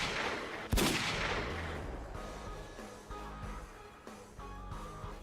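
Video game gunfire: one sharp, loud shot rings out and trails into a long rumbling decay, followed by faint tonal game sounds and low thuds in the background.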